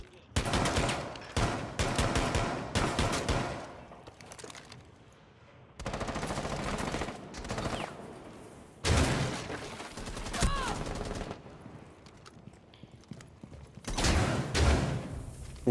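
Bursts of automatic gunfire from Rainbow Six Siege come in several loud clusters separated by brief quieter gaps, with faint voices in between.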